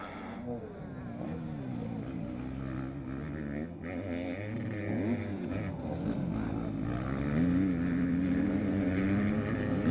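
Motocross bikes, including a Yamaha, race at a French championship round in Plomion, their engine drone rising and falling under a commentator's voice, with the noise swelling louder toward the end.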